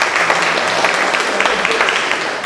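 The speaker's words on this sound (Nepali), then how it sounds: "बुवाको लागि बहुत जोरदार ताली एकचोटि बजाउनु पर्छ।" An audience at a college BBA orientation claps together, a dense and loud burst of applause that holds steady for a couple of seconds.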